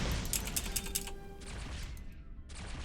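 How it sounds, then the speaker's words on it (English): Phaser fire in the Starfleet Command space combat game, rapid bright pulsing zaps in a dense burst that cuts out abruptly, then resumes after a brief gap, loud and without talk. "Come on, phasers. Get in there. Ooh, just a little more phaser fire and he's dead."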